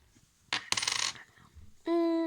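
A coin dropped onto a hard surface: two sharp metallic impacts with a brief rattle, then a clear sustained ringing tone as it spins and settles, close and alone.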